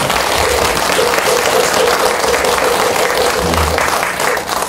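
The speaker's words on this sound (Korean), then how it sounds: "강량하시라고 다시 한번 큰 박수." Loud, sustained applause from a temple congregation at a Buddhist eye-opening and enshrinement ceremony at Beopseongsa on Geumosan, Gumi, as a steady dense wash of clapping running through the whole stretch.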